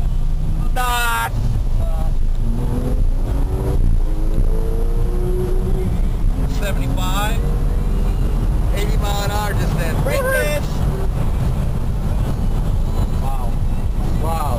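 A Porsche 911 Carrera engine revs and accelerates under strong wind rush, a loud continuous roar heard from inside the car, with rising and falling engine tones through the run and a few brief voices.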